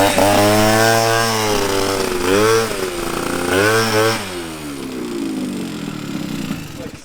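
A Derbi GP1 motorcycle fitted with a Piaggio engine revs up in rising, whining sweeps, climbing in pitch several times before settling into a lower drone.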